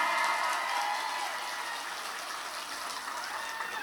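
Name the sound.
audience applause at a sermon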